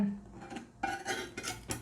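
Metal utensil scraping and clinking around the edges of khanom krok batter in a cast pan, several short scratchy strokes close up with no talking.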